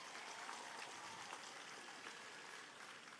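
Crowd applause at the Masskara Festival, a steady, even wash of clapping heard faint and distant throughout, with no clear individual claps standing out.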